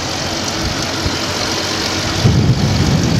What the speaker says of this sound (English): Hemi engine.